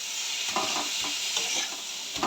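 A spoon stirs onion and garlic paste frying in hot oil, a constant close sizzle broken by soft irregular scrapes and clinks against the pan.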